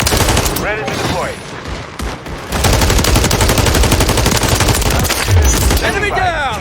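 Rapid automatic gunfire and bursts of shooting fill a shooter video game battle, loud and dense with brief pauses and a few scattered explosive thumps, with no one speaking.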